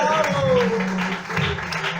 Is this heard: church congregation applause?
yes